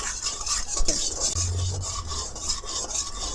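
Turmeric and chili powder are stirred in a pan, a continuous close scraping and rubbing with repeated strokes and a faint sizzle beneath, steady and fairly loud, with no voices.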